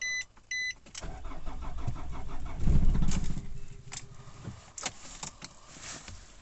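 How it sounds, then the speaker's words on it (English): A Nissan Navara D40 with a 2.5 dCi diesel engine cranks and fires with a few short beeps first, then rumbles roughly while the vehicle shakes before the engine stalls and dies away, leaving scattered clicks and knocks. "So it's starting up, but the whole vehicle is shaking and then it's just stalling out."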